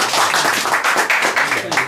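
An audience at a photographers' discussion event in a traditional hanok village breaks into dense, close applause, steady clapping sustained throughout the short burst.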